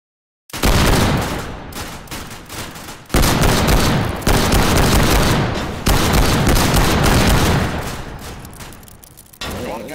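Saiga shotgun firing in the VR shooter H3VR during an arena fight against bots: loud, dense bursts of rapid gunfire in several long volleys with brief gaps between them, close up and filling the whole stretch.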